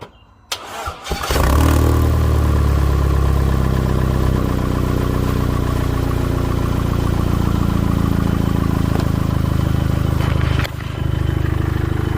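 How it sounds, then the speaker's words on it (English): A car engine cranks and catches after a battery jump-start, then settles into a loud, steady idle that runs on with a brief dip near the end. "we'll go start the engine"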